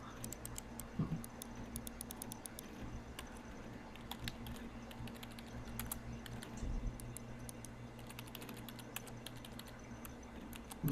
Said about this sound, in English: I'm typing, or someone's typing something.